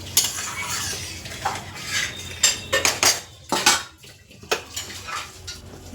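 A metal lid clatters onto a pot of hilsa fish curry with taro, potato and eggplant, giving several sharp, close knocks and scrapes over a faint kitchen hum, with no one talking.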